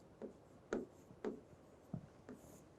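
Pen writing by hand in a notebook, a few separate scratchy strokes in an irregular rhythm, close and fairly quiet with no talking.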